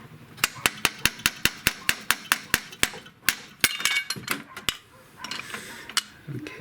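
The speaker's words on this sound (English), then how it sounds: "Wonder if I can tap down on the end of the stud as I'm pulling up on here." Metal tool tapping the end of a stud during an Audi TT Quattro Gen1 transmission swap, a run of sharp evenly spaced metallic knocks close by, then looser clinks and scrapes.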